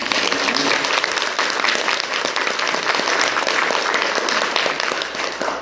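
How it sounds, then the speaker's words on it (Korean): Church congregation at a daytime Catholic Mass applauds to welcome a visiting priest, a loud, steady, sustained wave of many hands clapping together in a reverberant hall. "우리 박수로 환영합니다."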